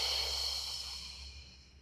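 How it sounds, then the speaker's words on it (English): Steady exhalation during a beginner pre-Pilates exercise, a close, breathy hiss that slowly fades over about two seconds. "And breathing out,"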